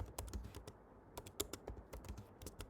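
Computer keyboard typing as an app title is entered, a quiet run of irregular key clicks in short bursts with small pauses, close and alone without speech.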